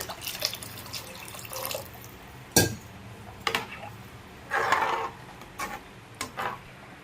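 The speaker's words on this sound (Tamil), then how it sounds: "இன்னும் கொஞ்சம் தண்ணி ஊற்றிக்கலாம்." Water splashes into a pot of curry in a home kitchen, coming in separate pours and trickles with short bursts and quiet gaps between them, alone with no voices.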